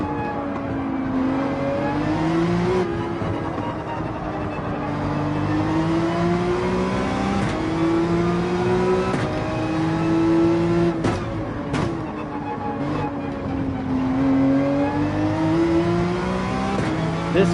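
Race car engine in Gran Turismo 7 at Spa, a steady close drone with harmonic pitch that rises and falls as the throttle is fed and eased across the whole stretch, with faint clicks near the middle.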